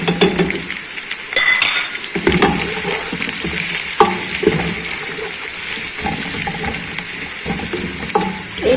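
Onion, garlic and ginger paste fries with masala in a pot for beef yakhni pulao, with a loud continuous sizzle broken by repeated scrapes and clinks of stirring and no voices.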